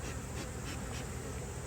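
Honey bees buzzing in a dense, steady drone during late summer hive work, the foragers close and continuous with no talk over them.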